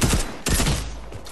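Rapid automatic bursts from a tactical submachine gun in Fortnite, loud and close, two quick volleys with a brief gap between them.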